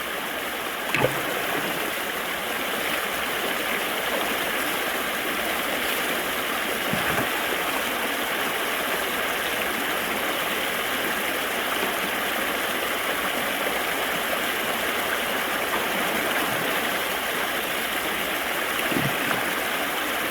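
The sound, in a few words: rocks tumbling down a gold sluice with running water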